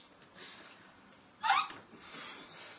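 A single sharp hiccup stands out, close and distinct, between quiet breathy stretches.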